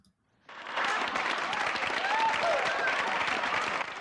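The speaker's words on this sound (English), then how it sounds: "Our crowd is just clapping for everything." Live audience at a horror-event awards show bursts into sustained clapping after a brief quiet moment, a dense, even wash of applause from a close crowd that holds steady for several seconds before easing slightly.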